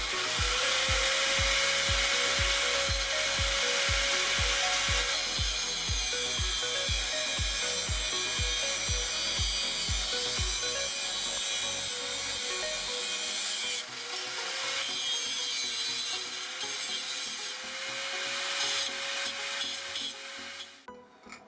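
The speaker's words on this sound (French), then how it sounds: "une petite vidéo de quelques secondes pour vous montrer comment on l'a coupée. Voilà. À la disqueuse tout simplement." An angle grinder cuts through a metal part for a 103 RCX moped engine, a loud continuous abrasive roar with a steady whine that shifts pitch slightly as the cut progresses, then tapers off at the end.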